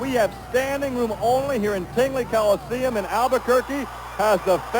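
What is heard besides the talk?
No everyday noises stand out.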